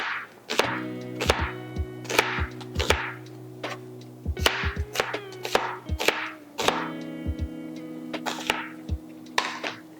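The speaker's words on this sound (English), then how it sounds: "we're gonna just make nice thin slices here for the onion." Half an onion is sliced thinly with a knife on a board, with a series of sharp, close chopping knocks in an uneven rhythm over soft background music.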